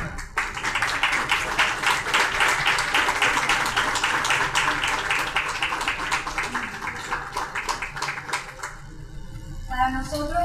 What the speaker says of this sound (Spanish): Un gran aplauso para ti.